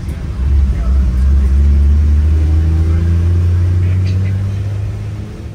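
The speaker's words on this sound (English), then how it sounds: "how cool is this old diesel-powered Toyota?" An old diesel-powered Toyota bus, serving as a shuttle, drives past in the rain with a loud, low engine rumble that swells and holds steady before easing off toward the end.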